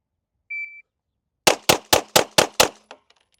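A shot timer beeps once, then six sharp pistol shots from a CZ Shadow 2 ring out in a fast even string on a range, each crack close and loud with a short decay.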